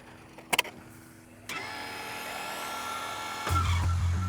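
A brushless MJX Hyper Go 14303 Citroen C3 WRC 1:14 RC rally car drives at 70% rate, its high electric motor whine rising and surging as it accelerates, with a couple of brief clicks before it starts.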